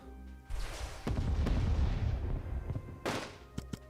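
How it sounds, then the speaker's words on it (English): Naval bombardment artillery in the Unity of Command II D-Day game: a few heavy booming blasts with rumbling decay, loud and close, followed by sharper short cracks near the end. "That's a powerful naval bombardment."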